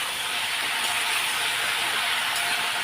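Spices stirred in a hot pan, a steady bright hiss of sizzling that holds evenly for a few seconds, close and fairly loud, with no talking.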